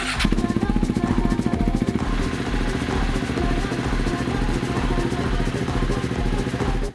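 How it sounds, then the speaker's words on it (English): A Husqvarna 701 SuperMoto single-cylinder motorcycle engine fires up and settles into a steady, fast-pulsing idle as it warms, loud and close throughout with no talk. "let's start the bike, get it up to temp"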